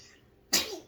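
A single sudden sneeze bursts out loud and close after a moment of quiet, then trails off into breathy decay.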